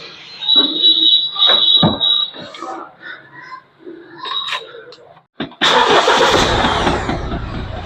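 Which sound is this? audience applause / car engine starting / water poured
car engine starting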